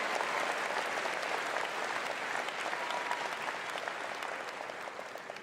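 Graduation audience at Rocky Mountain High School's 2023 ceremony applauding the choir and musicians, steady dense clapping with crowd murmur that tapers slightly toward the end.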